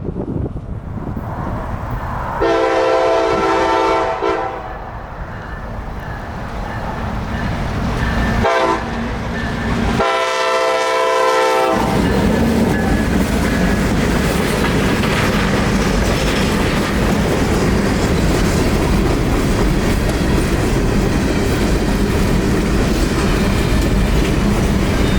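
A southbound freight train passes close by. Its horn blasts twice in long tones near the start, then a steady, loud rumble of rolling wagons and clattering wheels carries on to the end.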